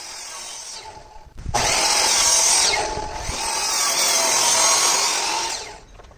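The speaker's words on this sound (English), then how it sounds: "we used our miter saw to cut pieces for blocking and the side planks of the box" A miter saw cuts wooden planks for a planter box: the motor spins up, the blade bites through the wood with a loud, rasping whine for several seconds, then winds down, close by with no talking.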